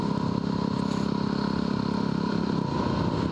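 A group of Harley-Davidson motorcycles rides past with a steady, loud engine rumble that holds throughout, heard from a moving bike on the road.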